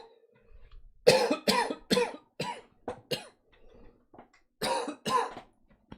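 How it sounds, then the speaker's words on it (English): A series of harsh, close coughs in quick bursts, about eight or nine in a row with short pauses, then two more after a break. "That's just me coughing."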